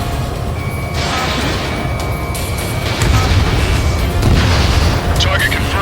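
Missile explosions in the flight combat game Ace Combat 7 rumble as a steady, heavy low roar with broad bursts around the third and fourth seconds, set against constant engine and battle noise.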